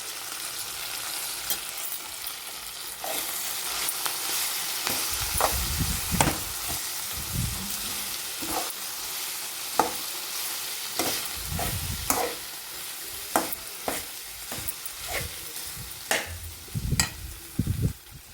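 Baingan bharta masala with turmeric frying in a pan, a steady sizzle running throughout while a spoon stirs and scrapes in repeated bursts, close and fairly loud with no voices.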